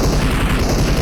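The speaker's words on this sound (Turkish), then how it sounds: "bomba attım ben bura" A grenade explosion in PUBG Mobile: a dense, low rumbling boom that rolls on for about a second, heavy and muffled like a nearby blast.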